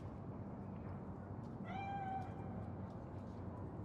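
A cat in Cyberpunk 2077 lets out a single drawn-out meow partway through, heard over a steady background hum and fairly clear against it.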